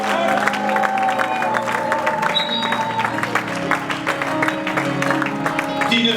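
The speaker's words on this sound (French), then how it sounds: "Au nom de Jésus, acclamons le Seigneur très fort" Church congregation at a Torrent de Kerith assembly service in Columbus, Ohio, clapping and cheering for the Lord, a steady dense wash of applause and shouts with music underneath throughout.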